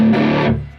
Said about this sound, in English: So what I'll do is I'll put on the distortion